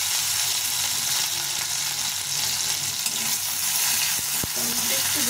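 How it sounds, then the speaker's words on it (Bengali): A small tomato fries in hot oil for a flattened-rice breakfast dish, making a continuous, fairly loud sizzle with faint stirring noises and a couple of brief knocks near the end. "তেলটা গরম হয়ে গেছে, এখন আমি এই টমেটোটা দিয়ে দেব"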